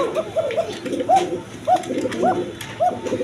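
Domestic pigeons kept with eggs and chicks coo in quick successive rolling calls, close and clear, several birds overlapping.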